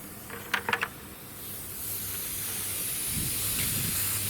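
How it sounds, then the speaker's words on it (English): Compressed air at just above 20 pounds hisses through a spray gun fed by a stretchy air hose, a few short bursts followed by a steady, moderate rushing flow. "The air flows just above 20 pounds into the gun."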